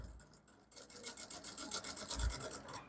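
A sewing machine stitches diagonal pleats on a senator top, its needle clattering in a fast, steady rapid rhythm after a brief quiet start, close and fairly soft with no talk.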